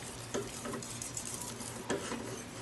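Milk being whisked into a flour roux in a pan: a steady, close scraping stir with a soft sizzle beneath, and two sharper clinks of the utensil against the pan.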